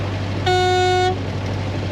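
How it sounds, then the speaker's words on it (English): A single sustained air-horn-style blast from a 1928 Chevrolet AB National woody wagon, bright and brassy with multiple tones, lasts about half a second over a steady low engine hum. "It's like an air horn type of horn."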